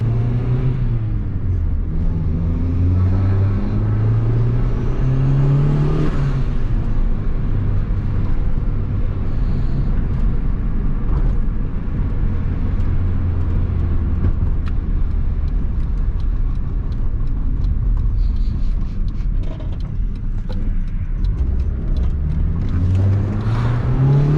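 A turbocharged Honda D16 engine drives a car on a test run with the wastegate just fixed and boost set low, a steady close engine drone with rising and falling revs throughout.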